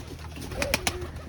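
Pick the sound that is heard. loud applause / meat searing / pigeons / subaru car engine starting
pigeons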